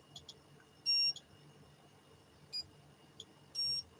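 A metal detector set to pinpoint mode gives short, thin electronic beeps, a couple of tiny chirps then longer tones repeating at irregular intervals over a faint quiet background.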